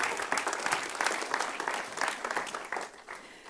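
Audience at a motivation talk on psychology clapping to welcome a speaker to the stage, a moderate, fairly distant burst of applause with rhythmic clapping that tapers off over the last second.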